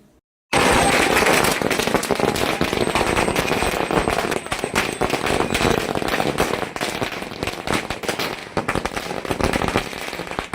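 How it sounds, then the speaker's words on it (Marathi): Dense, rapid bursts of firecrackers popping continuously, loud and close, like a long string going off without pause. "फटाके फोडून या निर्णयाचं स्वागत करण्यात आलं"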